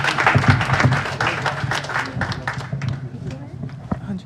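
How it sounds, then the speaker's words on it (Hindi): An audience at a school storytelling competition applauds a performer coming to the stage, brisk hand clapping that swells and then thins out, with voices talking over it. "तालियों के साथ उनका स्वागत कीजिए।"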